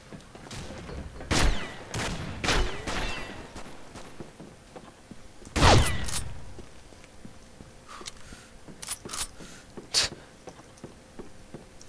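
Gunfire in the video game Combat Arms: scattered sharp shots, several single bangs and a louder cluster, with quieter shots spaced out between them.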